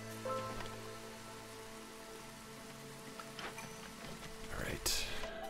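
Heavy storm rain in Against the Storm keeps up a constant hiss beneath game music, swelling into a louder burst with a bright crackling sweep toward the end.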